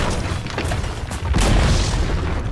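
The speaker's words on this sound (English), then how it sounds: "Dire's bottom tower has fallen" A Dota 2 tower being destroyed, a loud booming crash that swells midway and rumbles on through a dense wash of game effects.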